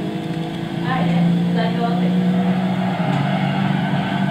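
Alfa Romeo 8C Competizione with its 4.7-litre 32-valve V8 in Gran Turismo 6, heard from the cockpit: a steady, droning engine tone that swells and holds, with speech over it.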